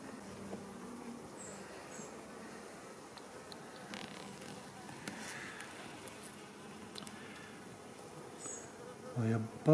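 Honeybees from this year's swarms buzz softly around a hive, a faint steady hum with individual bees droning past close by and a brief rustle at the end.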